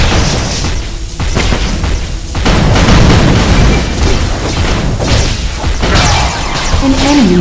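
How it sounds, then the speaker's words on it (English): An enemy turret blows up in the Iron League mobile MOBA game, one boom in a dense, loud wash of battle effects with whooshes and smashes, and no talk over it. "The enemy turret has been destroyed."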